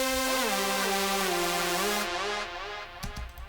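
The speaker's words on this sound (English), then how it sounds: "two saw waves and like some compression and distortion" Synth melody built from two saw waves with compression and distortion, bright and buzzy, with gliding pitch changes over about two seconds before cutting to a few short trailing hits.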